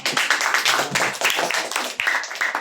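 A church congregation clapping during a sermon, brisk uneven claps from many hands close by, loud and continuous with brief dips, no voices over it.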